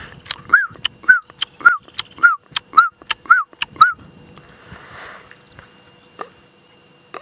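A black-backed puffback calls repeatedly in a quick regular series of sharp clicking notes paired with short upward whistles, then stops, leaving a quiet background.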